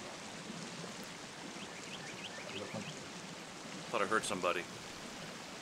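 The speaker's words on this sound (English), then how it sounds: "Or just the gurgling of the waterfall" Waterfall in the Sons of the Forest video game, a steady soft gurgling rush of water held in the background, with people talking over it and a short burst of voices near the end.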